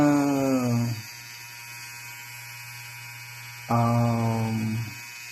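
A cheap vintage electric hair trimmer buzzes loudly in two short bursts about three seconds apart, with a steady low hum continuing in between.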